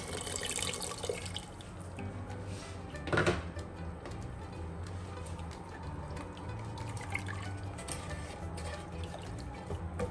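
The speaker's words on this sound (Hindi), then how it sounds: "थोड़ा सा पानी डालूंगी" Water pours and splashes into a pot, with a brief louder gush partway through, then trickling and gentle dripping continue near the microphone.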